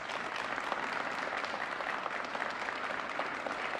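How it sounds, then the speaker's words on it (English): Audience applause fills the room at a police public safety grant announcement in Illinois, a steady dense clapping that holds at an even level throughout with no voices over it. "Let's give them a round of applause, please."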